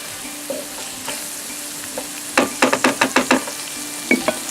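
A curry base sizzles steadily in a pan over high heat, with a quick run of rhythmic stirring scrapes in the middle and a few softer knocks around it.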